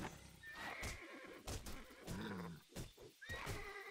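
Horse whinnies in the video game Titan Quest, with two rising high neighs and a lower snort over a busy battle mix of clashing hits and rumble.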